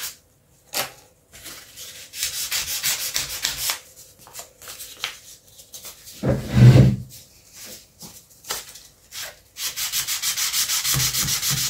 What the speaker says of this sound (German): zwischendurch mal ein bisschen schleift